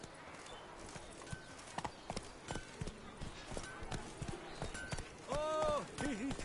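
Roach, a horse in The Witcher video game, clip-clops along in a steady rhythmic trot, the hoofbeats clear and close over a continuous background bed, with a brief voice or whinny near the end.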